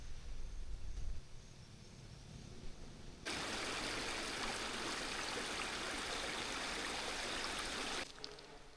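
A small creek runs beside a road at a campsite near Australia's most easterly point, its water rushing in a steady broadband wash that swells suddenly after a quieter stretch with low rumbling, then cuts off near the end.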